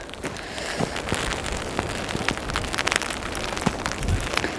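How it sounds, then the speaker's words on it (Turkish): Hail and heavy wet snow pelt down outdoors during snowman building in winter, a dense, steady patter of countless small impacts close by, with no voices. "Dolu yağıyor resmen."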